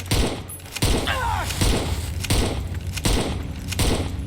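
Gunfire rings out in Fallout: New Vegas, a series of heavy evenly spaced shots with booming thuds over a dense game background.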